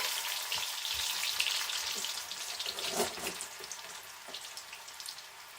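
Potatoes frying in a pan at a home brunch cook-up, giving a steady, dense crackling sizzle throughout with scattered pops, fairly close and without talk.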